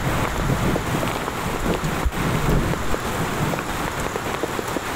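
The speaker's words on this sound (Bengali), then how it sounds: "চরম বাতাস, বৃষ্টি অনেক জোরে হচ্ছে।" Heavy rain pours down in a strong, gusting wind on a street during a storm, making a steady, dense roar that fills the whole clip without pause, with no voices.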